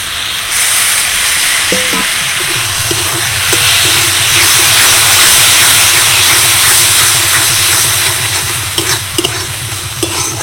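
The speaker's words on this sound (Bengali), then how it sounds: "একটুখানি হাই ফ্লেমে ভালো করে নেড়ে চেড়ে শুকনো শুকনো করতে হবে।" Lote fish mixture fries over a high flame for a crunchy lote fish chop, with a steady loud sizzle and hiss running throughout. Repeated scraping stir strokes cut through it.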